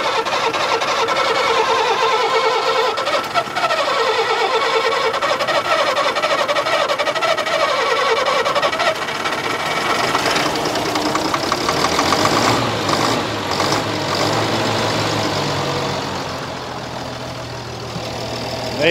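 A Volvo G88 truck's diesel engine cranks and catches, then settles into a steady, loud idle with a low rumble and clattering knock that carries on without pause throughout.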